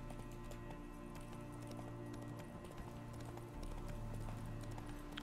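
Hooves of the horse Roach clip-clop steadily through a game scene in The Witcher 3, a continuous galloping rhythm over a low music and ambience bed, fairly quiet.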